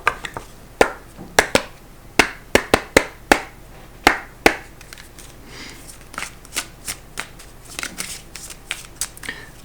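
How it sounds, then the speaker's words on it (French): A deck of oracle cards is shuffled by hand, giving a quick series of sharp, close riffling and slapping bursts, irregularly spaced, that thin into softer taps toward the end, with no speech over them. "On va aller tirer une carte dans l'oracle du karma."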